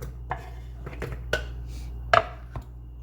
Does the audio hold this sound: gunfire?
no